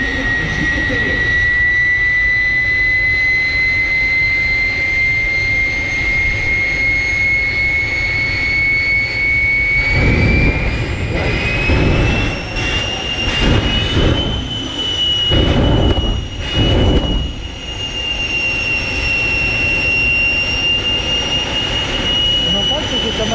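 Old cars racing on the Montlhéry circuit at a youngtimer meeting, a loud sustained engine roar with a rising high whine, swelling as cars pass closer around the middle, with crowd voices underneath.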